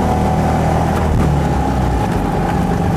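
Trojan 200 (Heinkel Kabine) bubble car's small engine droning loudly and steadily through a delicate shift into second gear, a continuous close hum with a slight change in pitch partway through.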